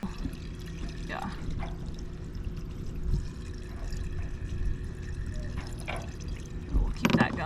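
Water pours steadily into a sailboat's empty onboard tanks as they are filled, a soft continuous trickling wash under low background noise, with a brief louder splash near the end.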